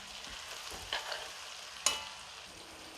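Gooseberries frying in hot oil in a pan: a soft, steady sizzle with a few sharp pops and stirring scrapes, close and otherwise quiet, no voices.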